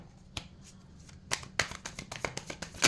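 Tarot cards being shuffled by hand, with a faint start and then a run of crisp riffling flicks and snaps growing denser and louder, heard close with no talking.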